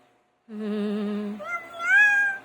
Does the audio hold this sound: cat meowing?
yes